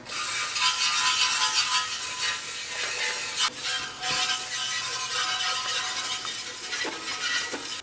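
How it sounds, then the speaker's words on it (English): A loud, continuous aerosol hiss of brake cleaner sprays up close on parts from a Chrysler 3.6 Pentastar oil pump job, with brief pauses, accompanied by faint rattles and scraping of metal parts. "Now we're ready to hit it with some brake clean. Get the bigger pieces out. Go ahead and start spraying."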